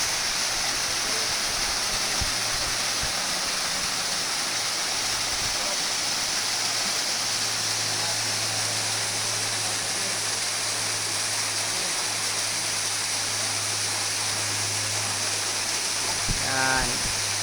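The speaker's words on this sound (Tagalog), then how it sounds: "ito na yung Tungtong Falls guys." Tungtong Falls waterfall roaring in a steady, loud, unbroken rush of falling water throughout, with only brief faint sounds near the end.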